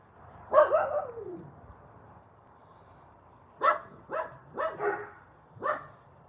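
Dogs bark outdoors at night, stirred up by coyote-like howling: one drawn-out yelping call, then a quick run of four sharp barks a short distance off, with quiet in between and no talking.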